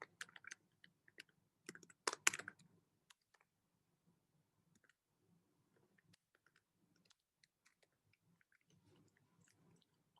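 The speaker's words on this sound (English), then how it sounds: "I'll try to type it." Scattered, irregular key clicks from typing on a computer keyboard, with a brief burst of faster presses near the start, then sparse, faint taps in a quiet room.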